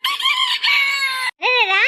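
A chicken squawks loudly and close by in a rural home, two long harsh strained calls separated by a brief gap.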